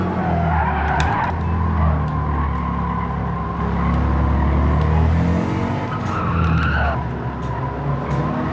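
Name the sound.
car braking and skidding in the video game Gran Turismo 7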